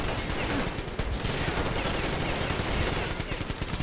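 Dense automatic gunfire rattles nonstop at a boss in Metro Exodus, a loud close stream of shots with no pauses, dense and harsh throughout.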